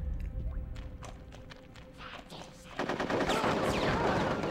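Gunfire in the Conker's Bad Fur Day video game: scattered shots, then a dense burst of rapid automatic fire that grows louder toward the end.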